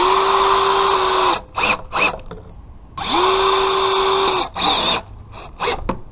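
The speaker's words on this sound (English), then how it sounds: "Now we'll go ahead and screw it all in." A power drill drives screws into a wooden bench support in two long whining bursts, each followed by short clattering noises, loud and close.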